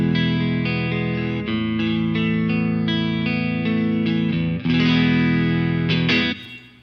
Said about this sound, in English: So Fender clean with a little bit of reverb.